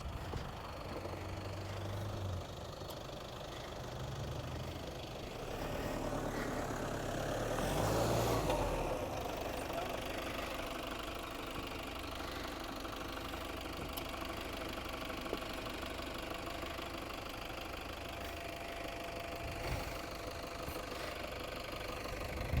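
A 4x4 off-road competition vehicle's engine idles and rumbles as it creeps down an obstacle, a steady low drone that swells briefly midway, heard at a moderate distance without talk.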